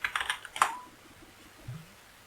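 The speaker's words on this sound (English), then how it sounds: "So type in 60, okay." A few quick clicks of typing on a computer keyboard, a short close burst of keystrokes followed by quiet, with no voice.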